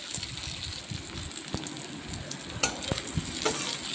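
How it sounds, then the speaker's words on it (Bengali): Eggplant being stirred with onions in a hot pan for a banana-flower and prawn curry, a steady sizzle and frying crackle with occasional scraping stir clicks, close and moderately loud, no talking. "বেগুনটা দিয়ে একটু নাড়াচাড়া করব বেগুনটা যতক্ষণ না নরম হয়ে যায় ততক্ষণ পর্যন্ত হালকা করে ঢাকনা দিয়ে দিয়ে নাড়তে থাকবো"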